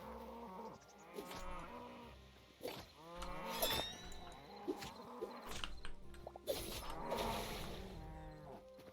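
Adult cows in the video game Hytale moo repeatedly, several drawn-out, close bellows spread across the stretch with short gaps between them, and no talk over them.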